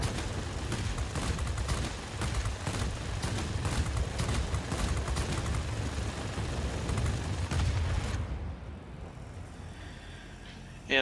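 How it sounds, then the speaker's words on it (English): Aircraft machine guns fire in the World of Warplanes game from a Bell P-39N-1 fighter, a dense continuous rattle of rapid bursts over engine roar, cutting out near the end to a quieter drone. "I knew that we still had machine guns that we could continue to fire"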